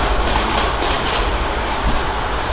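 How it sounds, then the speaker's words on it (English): A small train rolls past nearby at a fairground with a steady rumble and faint rhythmic clacking of wheels, no voices. "Little train."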